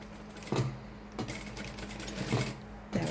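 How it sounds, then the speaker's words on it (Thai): A sewing machine stitches a reusable tea and coffee filter bag made from an old bag loop, its running whir steady with brief louder bursts at each restart, close by and without talk. "เราก็จะย้ำอีกรอบนึง เย็บเหมือนเดิมเลย"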